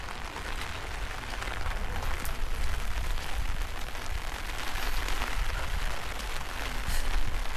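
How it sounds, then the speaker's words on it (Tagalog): Steady rain pattering on a surface in foggy grassland in Taiwan, a dense even hiss with scattered drops that continues throughout without pause. "hindi maganda yung weather. Ulan, tapos pagi pa."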